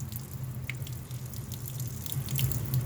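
Water running and dripping from an unplugged furnace hose, a steady close trickle with scattered drip ticks and a low gurgling hum throughout, no voices.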